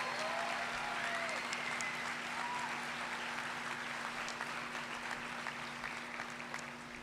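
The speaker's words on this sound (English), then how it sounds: "Let's give him a round of applause." Sustained audience applause fills a summer high school graduation ceremony, a dense steady wash of clapping from a large crowd with a faint background hum, continuing evenly throughout.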